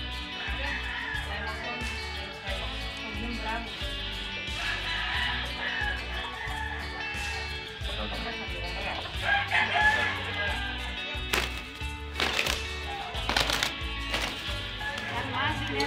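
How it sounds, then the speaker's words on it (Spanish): Fighting roosters crow and cluck repeatedly at a cockfighting yard, loud bird calls and sharp bursts rising over a busy background of voices and rhythmic music. "Mira qué buenos gallos, michoacano."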